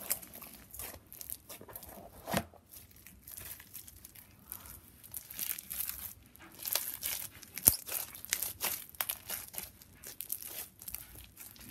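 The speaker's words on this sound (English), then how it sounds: "My slime was really pretty and super crunchy when it was done." Crunchy slushie bead slime packed with too many beads is squished and stretched by hand, giving continuous close crinkling, crackling and popping with a few sharper snaps, with no voices.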